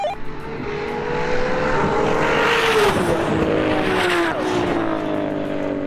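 Several tuned Nissan GT-R race cars, an R32, R33, R34 and R35, scream past a finish line at full throttle, engines howling loud and close with pitch sweeping down as they pass, a dense overlapping roar that fades slightly at the end.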